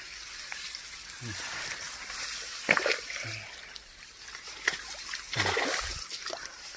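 Water splashes and sloshes in a flooded rice field, with several distinct sharp splashes rising over a steady wet background, fairly close.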